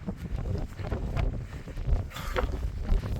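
Strong wind on a Pennines mountaintop buffets the microphone in rough, uneven gusts, a loud roaring rush with no clear voices.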